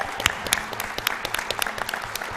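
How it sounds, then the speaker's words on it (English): A crowd at a speedrunning charity marathon event gives a short burst of clapping, brisk individual claps close and distinct over a brief moment. "So let's give a round of applause."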